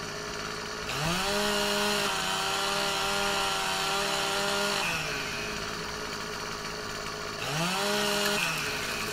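A chainsaw cuts a tree in the video game Farming Simulator 15. The engine idles loudly, revs up into a sustained high whine for several seconds, drops back, then revs again, with no talking.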